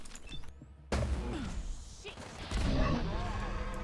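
A grenade exploding in the video game Fallout London, a sudden loud booming blast that cuts in sharply, followed by rumbling debris and a second surge of noise amid ongoing combat.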